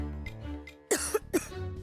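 Two or three harsh, close coughs burst out in quick succession over soft background music.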